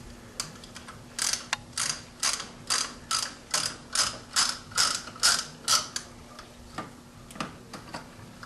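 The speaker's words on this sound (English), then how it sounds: "we'll use this filter wrench, placing it on the end of the filter and rotating it to the left to break it loose" A filter wrench on the oil filter of a Daihatsu Titan 575 engine gives a quick run of clicking ratchet ticks, close and fairly quiet, about a dozen evenly spaced clicks before trailing off.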